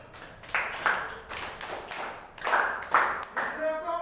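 Students in a ninth-grade English classroom break into clapping, several uneven bursts of hand claps rising and falling, with voices mixed in underneath.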